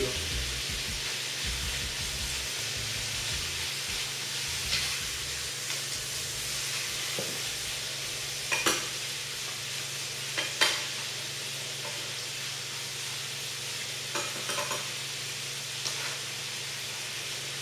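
Abalone sizzles and fries steadily in a hot pan, a constant hiss with occasional sharper pops and crackles.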